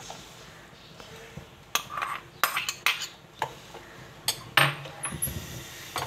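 A spoon clinks and scrapes against a pan while stirring strawberry jam, irregular sharp metallic taps spread across several seconds over a quiet background.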